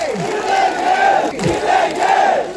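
A large crowd at a political rally in Gujarat chanting a rhythmic fighting slogan in loud unison, with wavering massed voices filling the space.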